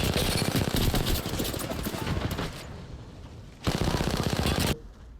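Rapid automatic gunfire in Apex Legends, loud close bursts of rattling shots broken by a brief lull, then another sustained burst before cutting off, with a voice talking over it.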